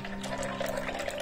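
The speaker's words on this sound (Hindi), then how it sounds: "जो हमने चिल्ड दूध रखा था इसको इसके अंदर डाल देंगे।" Chilled milk pours into a cold coffee and chocolate mix as a short continuous liquid stream, close and steady, with no voices.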